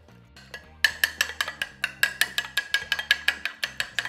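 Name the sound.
eggs being mixed in a bowl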